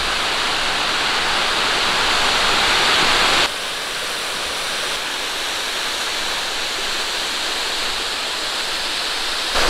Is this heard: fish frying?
no